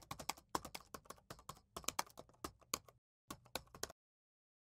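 Code is typed on a computer keyboard in quick bursts of crisp, close key clicks with a brief pause, then a final flurry before silence.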